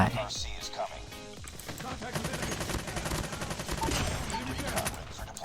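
Rapid automatic fire from an FR.556 rifle in Call of Duty Mobile, dense bursts of sharp shots crackling almost without pause over busy game background, loud and close.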